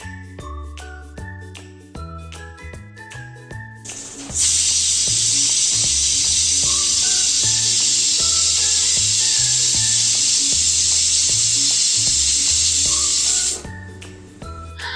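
A pressure cooker of dal vents in one long, loud, steady hiss lasting about nine seconds. Light music plays before and after it.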